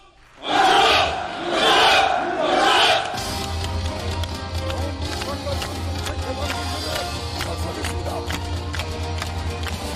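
Soldier builders at a groundbreaking ceremony let out three loud massed shouts in a rhythmic chant, then a large crowd cheers and claps continuously beneath a low steady rumble.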